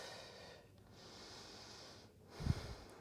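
Breathing sounds during a beginner yoga breathing exercise, faint airy exhales in soft waves, ending in one short, sharper snort-like breath near the end, no talking.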